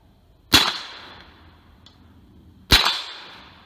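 Two loud, sharp MP-5K gunshots about two seconds apart, each ringing with a metallic steel plate hit at 30 yards and a trailing echo.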